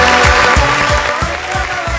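An audience at an outdoor concert in Al-Wadi Park, Samtah, claps in a steady rhythmic beat, loud and close, with a faint crowd murmur and a voice underneath.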